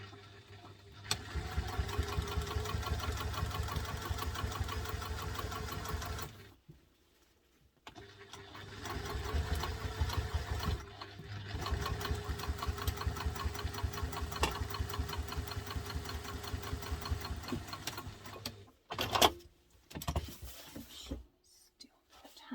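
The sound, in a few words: sewing machine top stitching a bowler bag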